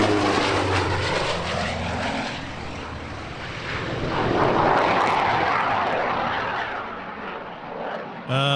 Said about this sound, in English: that sounds a bit like a yak engine. But hang on, is that 2 yak engines?